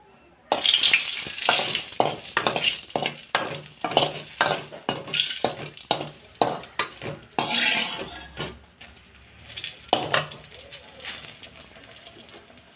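Three chillies tipped into hot oil in a pan for masala avalakki, giving a loud burst of sizzling with rapid crackles and spoon stirring, easing toward the end.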